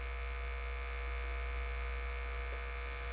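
An electric hair clipper runs with its blades dipped in cleaning liquid to loosen dirt and grime, a steady, loud, unchanging motor hum that fills the whole stretch without any talk.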